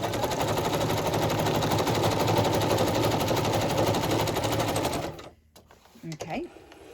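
A sewing machine stitches a tab onto a journal page in a loud, rapid, continuous run that stops abruptly near the end, followed by a few faint handling sounds.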